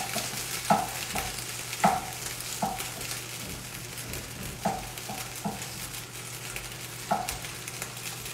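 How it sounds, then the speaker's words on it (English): Cranberries sauté in a pan with a constant low sizzle, punctuated by sharp periodic scrapes of a spoon stirring, steady hum underneath and no speech. "saute cranberries until they begin to pop and break down"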